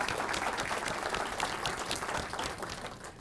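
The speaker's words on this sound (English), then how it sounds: "Can we give them a round of applause?" An audience applauds at a marketing conference presentation, honoring the event organizers and the AV and IT staff. Dense, steady clapping from many hands carries on throughout without a break.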